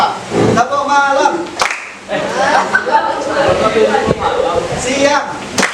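Group of participants at a teachers' academic supervision session doing a rhythmic "tepuk malam" clapping chant, claps in patterned bursts mixed with voices and chanting throughout.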